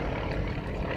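Propeller-driven Yak 55 and Yak 18T aerobatic airplanes at the Abbotsford International Air Show, with a steady, loud engine drone that stays constant throughout.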